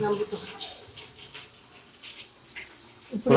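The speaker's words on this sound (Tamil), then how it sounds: "பாருங்க பைப்ல வந்து தண்ணி வந்து இவ்வளவுதான் வருது" Water trickling weakly from a pipe, a faint thin splashing that rises at the end.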